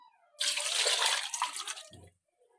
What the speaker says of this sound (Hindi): एक मग है हमारे पास ताज़ा पानी, ये हम ऐड करेंगे इनमें।